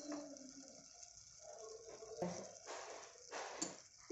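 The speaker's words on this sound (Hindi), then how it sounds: "अब मैं इसमें थोड़ा सा पानी ऐड करूंगी" Water being poured into a pot of cooking moth dal makes a soft, continuous splashing and trickling sound, faint and steady, with a few brief clinks against the pot.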